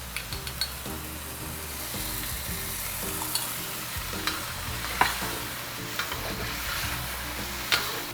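Zha jiang mian sauce thickening in a hot pan while being stirred: continuous sizzling with rhythmic spoon scrapes and occasional light clinks against the pan, and no voices.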